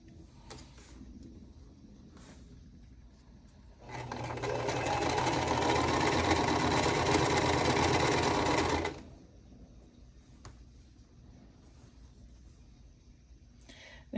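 A domestic sewing machine stitches quilt block seams in one steady, continuous run of about five seconds, with quiet room sound before and after.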